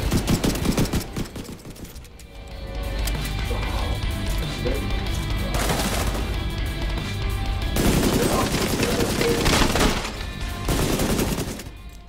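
Minigun-like rapid gunfire in The Division 2 comes in loud, sustained automatic bursts mixed with other shots and game effects. The firing runs almost continuously, with brief lulls between bursts.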